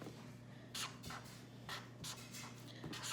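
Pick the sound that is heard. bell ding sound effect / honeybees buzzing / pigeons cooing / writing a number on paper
writing a number on paper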